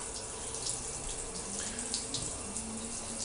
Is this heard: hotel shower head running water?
yes